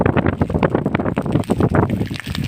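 Strong gusting wind outdoors near a burning hut, buffeting the microphone in rough, continuous roaring bursts with no clear pauses.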